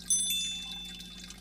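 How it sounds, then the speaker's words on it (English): Aquarium filter water in the Biotope Aquarium Simulator video game: a close, bright splash and trickle of running water with a faint shimmering ring, fading over a moment. "Obviously, switch the filter on. The effects and the water sounds are pretty good."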